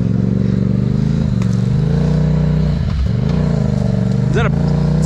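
A loud vehicle engine with its exhaust lost drones and rattles close by, a harsh steady roar with rough clattering, while people talk over it.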